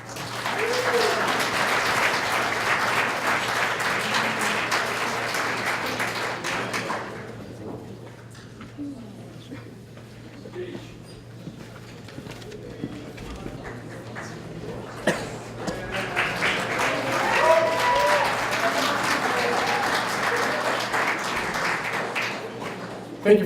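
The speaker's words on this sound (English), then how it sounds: "Thank you for that applause" Audience applause fills a hall at a synagogue's 61st anniversary dinner after a community service award presentation: a long burst of clapping fades to a quieter lull with scattered sounds and voices, then swells again into loud, sustained applause.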